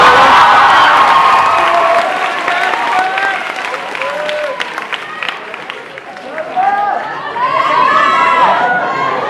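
Applause and cheering from a school graduation audience, Class of 2015, greeting speakers at a ceremony; loud, sustained clapping with shouts and crowd chatter that dips midway and swells again near the end.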